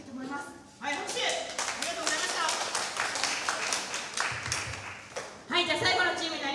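An audience at a children's broadcasting event bursts into clapping, a dense burst of applause that stops and resumes briefly, with a voice speaking over it.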